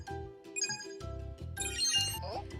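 A phone rings with a repeating electronic melody, moderately loud and close, its pattern cycling several times over a short span.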